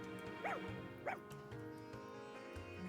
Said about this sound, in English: I can get another puppy.